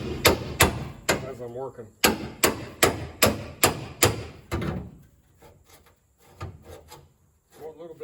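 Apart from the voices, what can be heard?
chisels prying apart a car trunk pan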